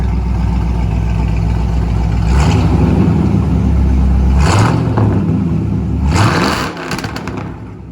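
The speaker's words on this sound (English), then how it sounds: "Rev it up a little bit for them so they can really hear it." A throaty Ford Mustang engine idles loudly, then revs hard three times in spaced bursts, each climbing and falling back to a rumbling idle.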